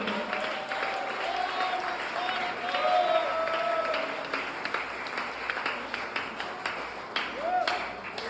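A church congregation at a worship service claps steadily for several seconds in a dense, sustained burst of applause, with a little cheering and a voice partly heard over the clapping.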